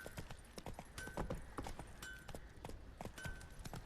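Roach, a horse in The Witcher 3, clip-clops along at a steady walking pace, each hoof strike crisp and close, with faint ambient background and a brief tonal game sound now and then.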